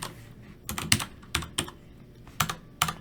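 Code being typed on a computer keyboard, several quick bursts of sharp, close key clicks separated by short pauses, with no voice over them.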